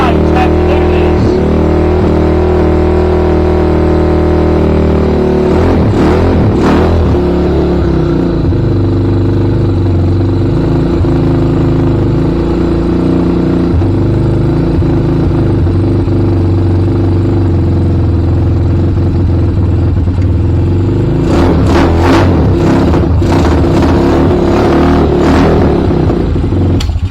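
A Honda Hawk 250 motorcycle engine runs with a new exhaust, a loud steady idle with throttle blips and revving bursts near the start and again toward the end.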